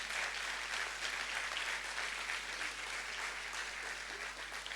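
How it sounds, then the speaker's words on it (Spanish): A worship congregation at a church conference session claps continuously, a broad, even roar of many hands filling the room from start to finish without pause. "usted puede aplaudir"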